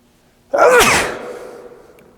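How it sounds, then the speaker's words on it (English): A single loud, close human sneeze bursts out sharply and then fades into a short trailing breath. "I may sneeze, hang on, sorry."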